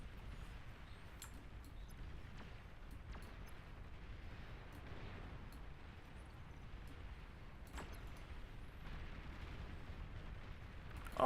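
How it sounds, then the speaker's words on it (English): Blue tachyon lasers from a Starlight mobile tachyon cannon in the strategy game Iron Nest fire in a continuous barrage. It is a dense low rumble of repeated blasts with sharp cracks scattered through it, and no one speaks. "Starlight mobile tachyon cannon. That's blue lasers to you and I."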